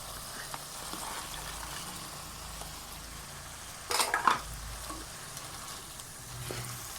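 Okra tossed into browned masala in a pan gives a steady, moderate sizzle with soft scraping stirs, plus a brief louder clatter of spoon strokes partway through.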